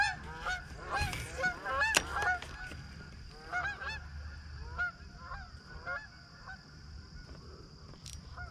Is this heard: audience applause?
no